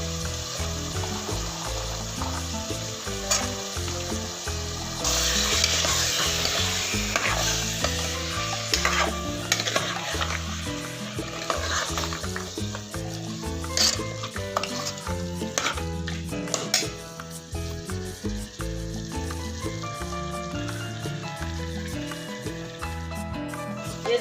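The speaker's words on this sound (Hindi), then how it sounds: "हम आलू मटर की भुनाई करेंगे।" Potatoes and peas stir-frying with minced meat in a pan for aloo matar qeema, with steady close sizzling and repeated stirring scrapes running throughout, alone without talk.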